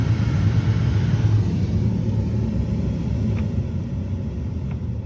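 A heater blower motor running inside a 2005 Ram 2500 with a failing blower motor or resistor, a steady, loud, low rumbling whoosh that holds constant throughout with no voices.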